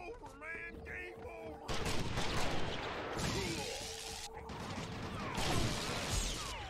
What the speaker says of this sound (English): That turret is intense.